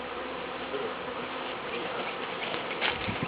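Many bees buzz continuously, a dense humming drone nearby with individual insects flitting closer and away.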